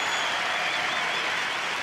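Steady, dense applause from a crowd at a karate world cup finals, clapping for a kata performance, continuous and moderately distant with no break.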